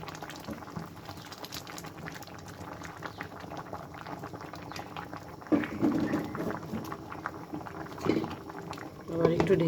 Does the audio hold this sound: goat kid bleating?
no